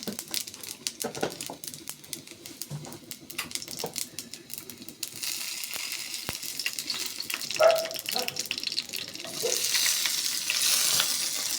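Onion and green chili with whole cumin frying in oil in a pan for a catla fish kalia, a steady crackling sizzle with scraping stirs, growing brighter and louder in the second half.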